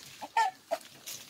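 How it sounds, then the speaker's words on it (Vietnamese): Two fighting cocks give a few short, close clucks in quick, uneven succession on a rural family property during lychee season. "Hai con gà trọi."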